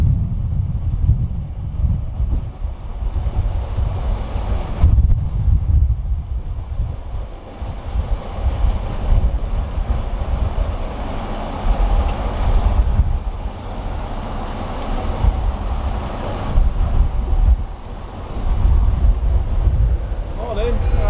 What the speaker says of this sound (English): It started to get really windy, which doesn't make boating easy